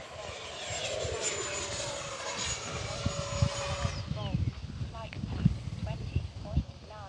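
An FMS F-18 RC jet with a 70mm electric ducted fan flies overhead, its whining, rushing fan sweeping past and fading. Throughout, someone talks nearby and there are footstep-like thumps.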